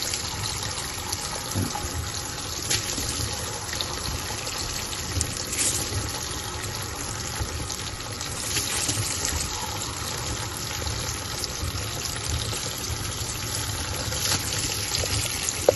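Washing machine filling with water for a detergent test, a continuous rushing and trickling flow with a low pump hum, steady and close throughout.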